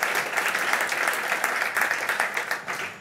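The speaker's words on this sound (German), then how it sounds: "Auch Sie begleiten mich natürlich mit einem Applaus zurück auf Ihre Plätze" Audience applause at a corporate dialogue event in Upper Austria, dense continuous clapping from a seated crowd, loud and even throughout with slight rhythmic swells.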